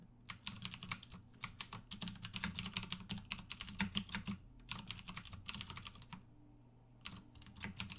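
Quiet, close typing on a computer keyboard, a steady patter of key clicks in quick bursts with short pauses between phrases, no voice present.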